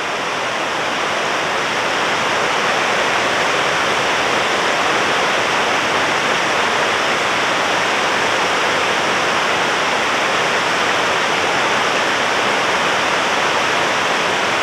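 River Esk in the North York Moors flowing steadily, a constant loud rush of water that stays even throughout with no voices.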